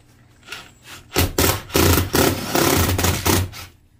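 A power drill boring a pilot hole through stainless steel sheet for a self-tapping screw while fitting out a food truck, heard as several loud bursts of grinding whir close by, each a fraction of a second long, separated by brief pauses.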